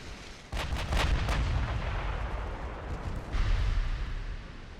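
Naval guns boom in heavy bursts in a warship battle game, several sharp blasts in quick succession followed by rolling rumble and another impact of shells striking a heavy cruiser.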